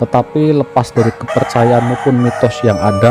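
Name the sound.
rooster crowing at night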